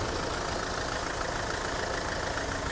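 A Mahindra XUV500 W11 with its mHawk engine idling, a steady, even rumble with no change in pitch, heard close under an open bonnet with no talking.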